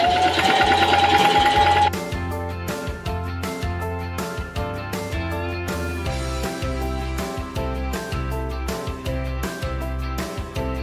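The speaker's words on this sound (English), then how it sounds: "so now we're ready to sew." Sewing machine stitching fabric tentacles for an Ursula Halloween costume, running in a fast steady mechanical chatter for the whole stretch, loud and close with no talking.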